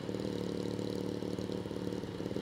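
A big motorcycle engine idles steadily with a dense, throbbing mechanical rumble on an open road ride, continuous and fairly close throughout.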